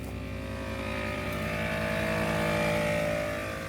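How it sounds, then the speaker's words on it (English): ARB dual air compressor running steadily while inflating all four tires of an off-road vehicle through hoses, a continuous close, loud motor drone with a buzzing hum and no pauses. "So this is the ARB wireless air up system"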